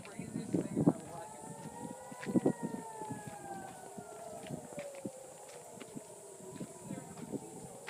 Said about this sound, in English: We're hearing all these air raid sirens.